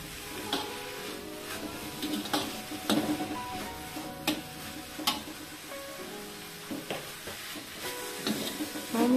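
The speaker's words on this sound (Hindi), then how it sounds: "और अब हम इसको मिक्स करेंगे अच्छे से।" Spices being stirred and mixed into a radish and fenugreek bhaji in a pan, with irregular scraping and clinking of a spoon against the pan over a faint sizzle.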